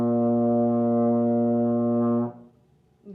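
A trombone plays a single steady long tone, loud and full, for just over two seconds before cutting off into near silence.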